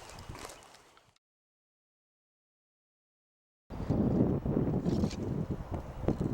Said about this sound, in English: approximately 30-mile-an-hour crosswind